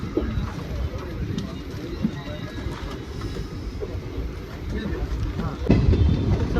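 The Basava Express rumbles and clatters nearby arriving at Anantapur station, a heavy continuous drone growing louder toward the end, with faint voices.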